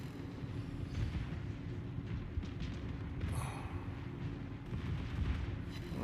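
Battleship secondary batteries fire in World of Warships, a run of deep booming reports rolling over a low rumbling backdrop, with one sharper crack standing out midway.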